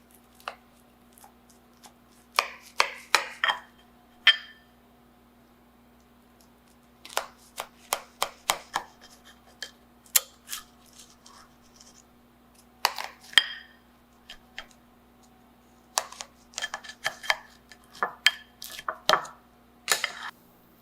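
Knife and server cutting into a baked SPAM and Swiss impossible pie in a dish, a series of sharp clinks and scrapes in irregular bursts, close and clear with quiet gaps between, no talking.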